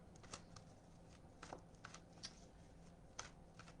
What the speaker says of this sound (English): I'm going to shuffle the tarot cards